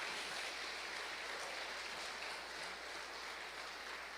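A church congregation claps together through a worship service, a steady, dense wash of applause that stays even for about four seconds, with no voice above it.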